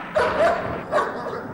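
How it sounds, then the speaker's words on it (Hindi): Dogs bark at an ancestral mansion during a birthday celebration, two loud yapping bursts close by, the second after a short pause, with no one speaking over them. "अरे कुत्ते क्यों भौंक रहे हैं?"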